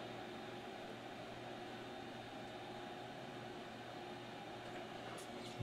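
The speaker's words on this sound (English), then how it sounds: "Next, we'll hit it with the hot air station." A hot air rework station blows steadily onto a TV circuit board, a quiet continuous airy hiss with a faint hum underneath and no talking.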